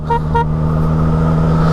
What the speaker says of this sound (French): je vais tester le klaxon